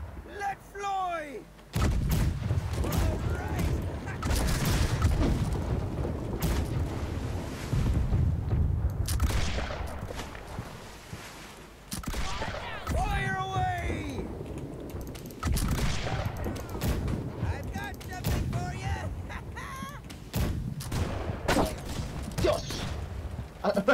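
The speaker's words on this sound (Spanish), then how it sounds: "Venga, unos cañonazos ricos ahí." Cannon fire in a naval battle in the game Blackwake, repeated heavy booming blasts and crackling gunfire over sea ambience, with players talking excitedly between the shots.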